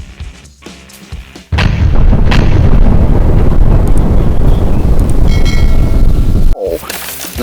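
A grenade goes off in a shooter video game with a sudden heavy boom, followed by a loud, rumbling, wind-like roar that fills several seconds before cutting off.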